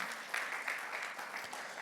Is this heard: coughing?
no